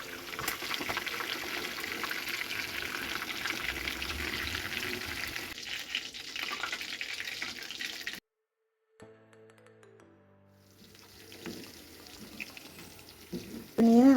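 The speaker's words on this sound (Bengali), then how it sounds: "এখন হচ্ছে দ্বিতীয়বার ভেজে নিচ্ছি।" Chicken pieces going back into hot oil for a second frying, a steady bubbling crackle that carries for several seconds before a brief silence, then softer sizzling returns along with light clatter.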